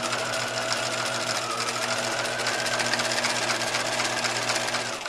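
A sewing machine stitches a long pajama pant leg seam, running steadily and loudly for the whole stretch with a fast, even mechanical hum and rattle.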